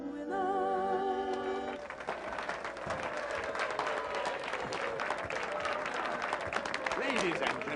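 A soprano's final sung note fades out over the first two seconds, then an audience breaks into loud, dense, sustained applause for her that continues to the end.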